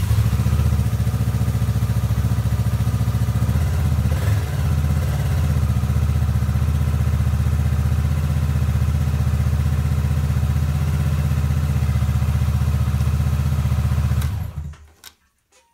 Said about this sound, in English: Let me just fire it up for you.